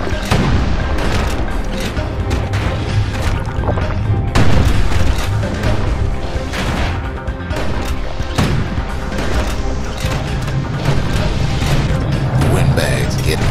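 Security skiffs firing in the Bastion video game, heavy booms and crashing impacts with bursts of gunfire under a narrator's voice and a steady music bed, loud and continuous throughout.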